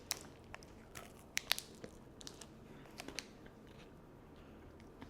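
Crunchy protein bar with a popping crisp outer coating and nougat center being bitten and chewed up close, giving a few sharp crackling crunches amid soft, faint mouth sounds.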